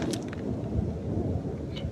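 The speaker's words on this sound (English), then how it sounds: "you can still hear that thunder" Thunder rolls in the distance after rain on a solo backpacking trip, a low rumbling wash that swells and fades over the clip, with light patter and rustle above it.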